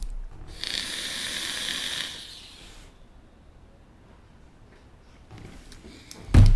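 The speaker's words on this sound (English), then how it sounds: "let's fire this beast" Suicide Mods 21700 side-fire tube mech mod fired with airflow wide open, a steady airy hiss of vapor lasting about two seconds, then quiet, ending in a few clicks and a close thump.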